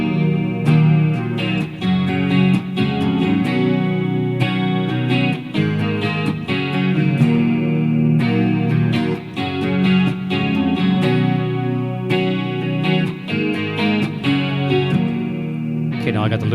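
A Gibson Les Paul electric guitar plays a looped, effects-laden chord pattern through a Helix looper, rich and sustained with rhythmic strums, loud and continuous throughout.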